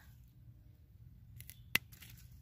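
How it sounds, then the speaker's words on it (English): Pruning shears clip spent salvia stems while deadheading a garden plant, one sharp close snip standing out against quiet outdoor background noise. "I'm going to go down to the next section and cut there"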